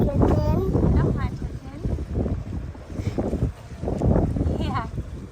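Wind rumbles across the microphone outdoors at an elephant park in South Africa, gusting unevenly in low bursts while several voices talk nearby over it.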